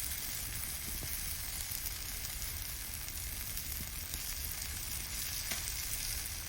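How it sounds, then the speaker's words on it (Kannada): Fish fries gently in an oiled pan over a low flame, giving an even, continuous soft sizzle with faint crackles. No voices are heard. "ಚಂದ ಮಾಡಿ ಮೀನು ಫ್ರೈ ಆಯಿತು. ಆಚೆ ಮಾಡಿ ಫ್ರೈ ಮಾಡಿದ್ದೇನೆ ಕಡಿಮೆ ಉರಿಯಲ್ಲಿ."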